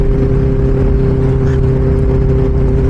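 A Benelli 600 superbike exhaust drones loudly and steadily at high revs, a continuous close-up buzzing tone with no break or voice.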